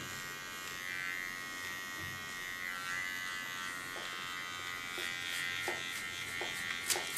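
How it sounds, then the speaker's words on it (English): A Theo electric hair clipper trims small hairs around the ear and hairline, a steady close buzz running throughout with faint clicking bursts toward the end as the blades move over the hair. "This is a Theo clipper."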